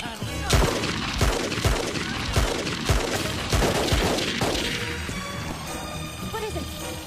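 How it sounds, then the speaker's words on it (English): Gunfire rings out in a jungle chase scene, a rapid series of sharp cracks at irregular intervals mixed with running, shouting voices and background score, fading toward the end. "What is it? Gunshots."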